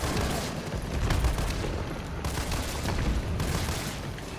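Burst gunfire in the video game Resident Evil 3 forms a dense, continuous roar of rapid shots that swells and dips across several seconds. The firing sounds close and loud, with heavy low rumble beneath it.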